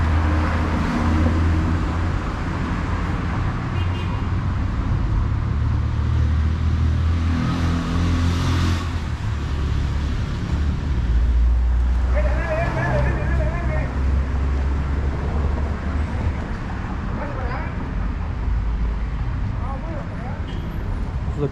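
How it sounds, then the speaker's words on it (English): A car passing on a downtown street in Guatemala City's Zona 1, engine rumble swelling and fading by at close range amid steady street traffic noise, with occasional talk. "I'm gonna wait for this car to pass."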